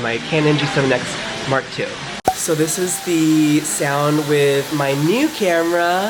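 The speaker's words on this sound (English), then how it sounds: "You can also hear the hairdryer in the background" A hairdryer runs steadily in a busy, loud salon, a constant airy whir sitting underneath continuous close-up talking.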